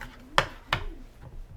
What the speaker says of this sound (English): take 3 cloves of garlic, chop them, mince it up